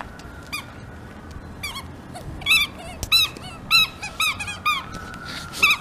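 A squeaky pet toy is squeezed during playtime, giving a series of sharp, high, honking squeaks in an uneven rhythm that grow more frequent toward the end, close and alone.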